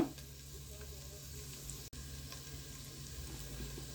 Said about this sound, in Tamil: வறுத்து எடுத்துக்குவோம் இப்போ வறுத்தாச்சு போதும்